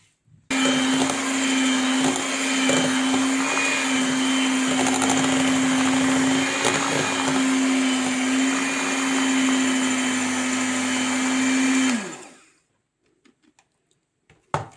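An electric blender whipping an ice cream mixture with chocolate, a loud steady motor whine with churning that runs about eleven seconds, then cuts off abruptly to near silence with a few faint clicks.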